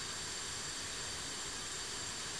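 The jet engine of an F-5 Tiger II in DCS World, started with ground air supply, gives a steady, even rushing hiss and whine that holds without change and sounds fairly faint.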